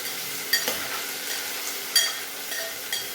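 Onions and pigeon peas frying in a pan for a buttermilk sambar tempering, with a soft steady sizzle and a few sharp clicks of a spoon stirring, fairly quiet and alone with no talk.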